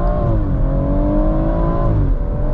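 A BMW M140i Shadow Edition engine revs under acceleration during a night drive, heard from inside the cabin as a loud, steady droning hum with rising and falling tonal pitch, no talking.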